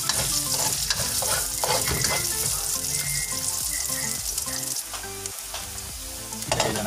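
Garlic fries in a pan for beef with corn, crackling and sizzling loudly and steadily as it is stirred, with a spoon clattering and scraping against the pan now and then.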